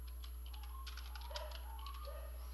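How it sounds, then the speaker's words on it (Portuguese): Light typing on a computer keyboard, a quiet scatter of soft clicks over a steady low hum, no talking. "Aqui eu vou digitar o texto."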